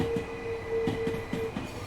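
A train driven in the Train Sim World 2 video game on the East Coastway rumbles steadily, with rhythmic wheel clicks over rail joints and a faint steady tone, with no talking.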